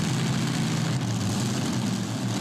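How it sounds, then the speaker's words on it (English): A super modified race car engine idling with all cylinders firing, a loud, steady low drone with a dense buzzing rumble, close and unbroken, no talk over it. "Cowboy Mike put his hands over the headers there to make sure that all cylinders are fired and everything's raring to go"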